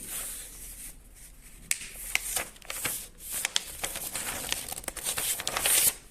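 A paper head cut-out folded in half, close and quiet, with crisp crinkles, soft rustles and a few sharp creasing snaps scattered unevenly over several seconds, no talking.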